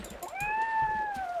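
A Minecraft cat gives a single drawn-out, clear meow, fairly loud and alone over faint background game sounds.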